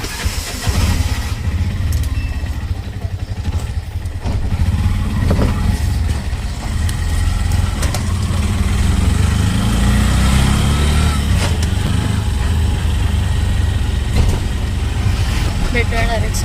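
A small auto-rickshaw engine runs steadily and close by on a hot street, a constant low rumble with a lighter buzz above it, continuing the whole time without a break.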